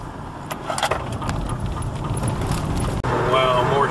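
A car drives through evening rush-hour road traffic, with a steady low rumble of engine and road noise, jangling keys and occasional clicks, while someone talks throughout.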